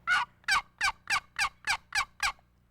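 Eight evenly spaced turkey yelps made on a quick draw box call, crisp, clear and close, in a steady rhythm with no other sound.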